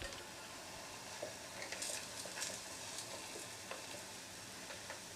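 Masoor dal fritters (bora) frying in oil over a low gas flame, a steady close sizzle with faint crackling pops, no talking.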